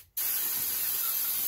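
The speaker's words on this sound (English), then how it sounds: "I'm going to spray this stuff down with contact cleaner." Contact cleaner sprayed from an aerosol can onto the fuse box of a high-mileage Ford F350 Super Duty truck, a loud steady hiss that starts abruptly after a brief pause and runs continuously, close up.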